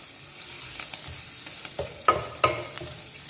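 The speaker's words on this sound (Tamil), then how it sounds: "இந்த மிளகாய் எல்லாமே இந்த எண்ணெயில் நல்லா வதங்கணும்" Green chilies frying in oil in a pan, a soft continuous sizzle broken by several sharp stirring scrapes and clinks of a spoon, moderately quiet with no talking.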